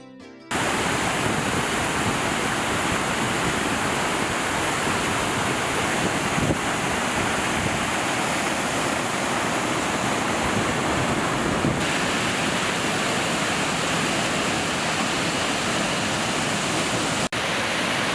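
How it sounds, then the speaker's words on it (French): A steady, powerful roar of falling water at the Cascade du Rouget in the French Alps, broadband and continuous, close by and loud throughout with no voices. "nous arrivons à la cascade du Rouget."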